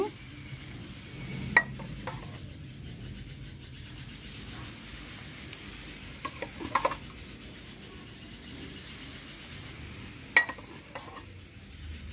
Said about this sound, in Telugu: ఇప్పుడు ఈ నూనె వేసుకుందాం, మరిగి నూనె. వెల్లుల్లిపాయల మీద వేసుకోవాలండి.